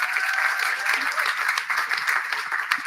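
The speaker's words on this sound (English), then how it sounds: "Please give her a round of applause." Audience applause at a panel event in a pub, a steady wash of many hands clapping that fills the whole stretch at an even level with no voices over it.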